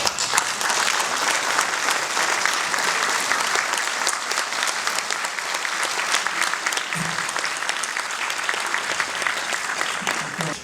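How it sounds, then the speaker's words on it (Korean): Indoor audience at an inauguration ceremony breaks into sustained, dense clapping that stays loud and even for the whole stretch, with a brief murmur of voices beneath it. "박수로 환영해 주시면 감사하겠습니다"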